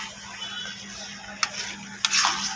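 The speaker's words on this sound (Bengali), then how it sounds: "এই যে সবজিটাকে আমি ভালো করে কষিয়ে নিলাম।" Mixed vegetables sautéing in oil in a pan for a potato and egg curry, a steady soft sizzle with two sharp spatula clicks against the pan.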